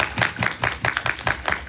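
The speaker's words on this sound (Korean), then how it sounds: "저희 큰 박수 한번 부탁드립니다" An audience at a film talk event for an indie screening claps in a steady, fast rhythm, a close and lively patter of hands with no voices over it.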